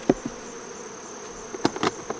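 Honey bees swarm around an Apimaye hive during a honey harvest, a steady close buzzing broken by a few sharp taps and clicks.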